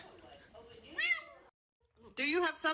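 A cat meows a few times close by, short tonal cries separated by a brief pause, with another voice or sounds mixed in around them.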